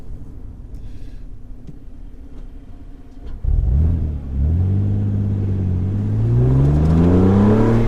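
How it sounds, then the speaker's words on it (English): Passing road traffic with car engines rumbling and whirring, one vehicle accelerating and rising in pitch as it draws near and loud, over a steady low background hum. "A lot of traffic today."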